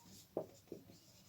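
Two short, faint marker or chalk strokes on a classroom board, squeaky scratches spaced apart in a quiet room during a maths lesson on fractions.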